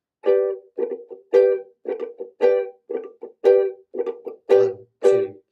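A ukulele is strummed with a squeeze-and-release muting technique, giving about ten short, choppy, ringing chord bursts in a steady pattern, each cut off sharply, played close and alone.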